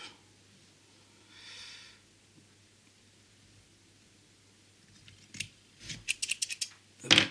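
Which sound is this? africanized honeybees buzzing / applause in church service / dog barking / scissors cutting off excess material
scissors cutting off excess material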